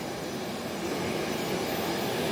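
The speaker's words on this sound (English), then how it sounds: "Another plane just landed." An airplane landing at a small county airport, a steady broad engine roar heard from a moderate distance with no other sounds over it.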